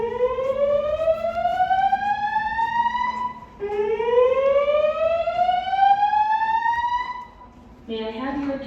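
A classic speaker strobe fire alarm sounds during a building test, giving two long rising whoop sweeps, loud and close, followed by the start of a spoken announcement over the speaker.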